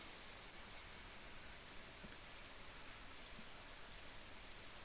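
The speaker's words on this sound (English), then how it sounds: "Oh, it's a rainy day. It's a rainy day." Steady rain falls in the Stardew Valley farming game, a soft, even wash of dense patter that holds at a constant low level throughout, with no voices over it.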